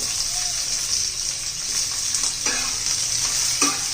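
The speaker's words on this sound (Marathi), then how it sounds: "तर आपल्याला हे जास्त नाही शिजवायचं, थोडंसं असं परतून घ्यायचं 2-1 मिनटं." Onion and capsicum being stir-fried in a pan for egg chilli, a loud steady hissing sizzle with a few scraping stirs near the end, no talk.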